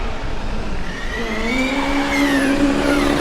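A Formula Student race car engine stuck in gear holds on the rev limiter during an autocross run, a steady buzzing drone with rising and falling harmonic whine, fairly close and constant.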